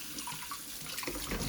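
Tap water runs steadily over sea bream being washed at a sink, a continuous close splashing flow that thickens and grows louder near the end.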